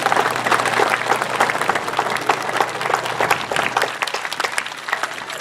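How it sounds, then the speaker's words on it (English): Outdoor crowd at a Highland Games clapping steadily in a dense, sustained round of applause for the volunteers, fairly loud and unbroken, thinning slightly toward the end. "would you give them a big round of applause for me?"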